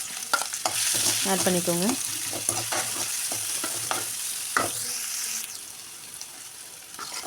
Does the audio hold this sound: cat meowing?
no